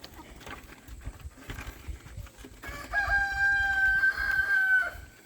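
Rooster crowing on a small family farm with goats and chickens, a sustained loud crow rising over steady background clucking and barnyard noise.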